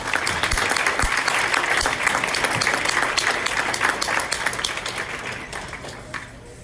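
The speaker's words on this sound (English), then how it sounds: "Let's give them a round of applause." A school board meeting audience gives a warm round of applause for the varsity cross-country team and its regional qualifiers; the clapping is steady and full, then tapers off toward the end.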